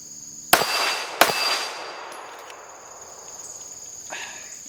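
Two sharp pistol shots from a CR920 handgun fired from the low ready, about a second apart, each with a short echoing tail, then quiet outdoor ambience with insects.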